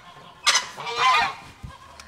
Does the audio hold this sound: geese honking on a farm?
yes